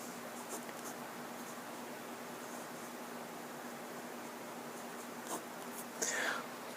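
A Pelikan M415 fountain pen with a medium 14C nib glides across paper in a continuous soft scratching hiss, close and quiet over faint room hum, ending with a slightly louder stroke.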